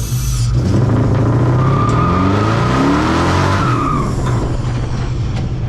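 A 1934 Ford hot rod with a 6.2L LS engine converted to a four-valve overhead cam drives hard, its loud engine sweeping up and down through the revs with a brief squeal of tires, close and steady throughout.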